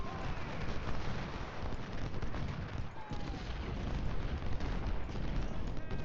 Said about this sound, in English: Actually, let's have him shoot those guys.